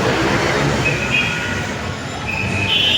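An LRT light rail train in the Philippines rumbles steadily past with a constant roar and faint high-pitched wheel squeals, fairly close and loud.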